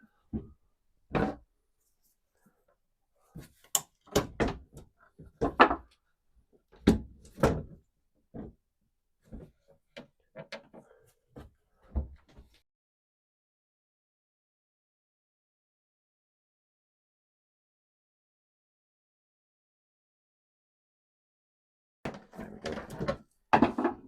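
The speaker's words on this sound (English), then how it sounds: "This cupboard door keeps falling off, so I think I'm going to start with this." A loose cupboard door on a project sailboat is worked free and removed: a run of sharp knocks, thumps and wooden clunks at close range, then a long quiet gap before a final burst of rattling handling. A voice speaks briefly.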